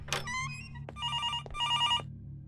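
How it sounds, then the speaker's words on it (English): A telephone rings in the horror video game Araya 4: a short electronic tone, then two bright trilling bursts of the ring, close and clear over a low steady background hum. "Why can't I answer my phone?"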